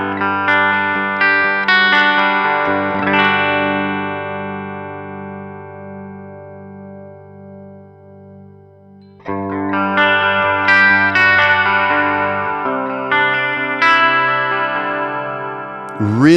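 Clean electric guitar tone from a Line 6 Metallurgy modeler with built-in chorus and reverb, strummed chords ringing out and decaying into a long sustain, then a fresh burst of strummed chords and picked notes.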